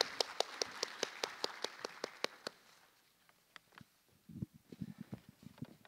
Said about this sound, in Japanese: どうぞ皆様拍手をお送りください